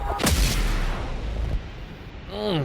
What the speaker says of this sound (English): Explosions. I love it.